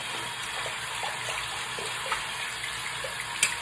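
Tap water runs steadily while a bowl is rinsed out at a home sink, a constant even rush with faint knocks and splashes and a small clunk near the end.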